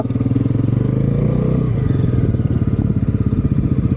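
A Bajaj NS400Z motorcycle pulls hard in first gear, its engine note loud and close with a steady throbbing pulse that climbs and rasps through the whole stretch, with no talk over it.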